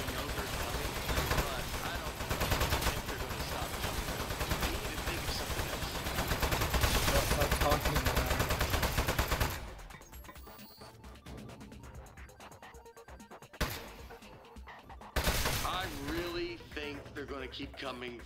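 Rapid automatic turret fire in a desk-defense video game, loud and continuous for several seconds before dropping away to sparse shots, with someone talking over it.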